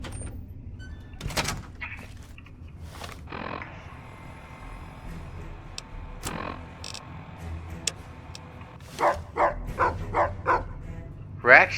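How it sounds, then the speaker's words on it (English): Rex, a dog companion in the video game Fallout: New Vegas, lets out a quick run of sharp barks near the end, following game noise and some talk. "Rex, you're always barking"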